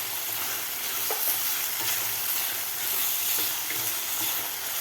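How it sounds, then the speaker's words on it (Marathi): Tomatoes sautéing and being stirred in a pan for flower bhurji, a steady close sizzle with faint scraping stirs throughout and no talk. "सॉफ्ट होईपर्यंत आपल्याला हे टोमॅटो परतायचं आहे."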